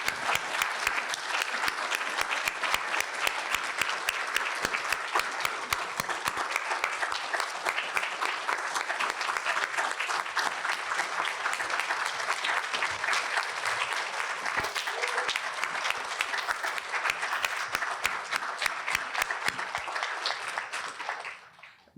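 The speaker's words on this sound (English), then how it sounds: "I think it's worth giving them an amazing round of applause." An audience at a leadership in diversity awards ceremony gives a long round of applause, dense and steady clapping sustained for about twenty seconds before trailing off at the very end.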